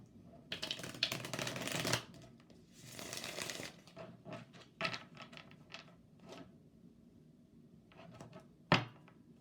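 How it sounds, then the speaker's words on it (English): Message cards are pulled and shuffled from a deck in a quiet room, giving a run of papery riffles and slides, then scattered taps and soft knocks as cards are set down, ending with one sharper thunk. "I'm going to pull 3 message cards."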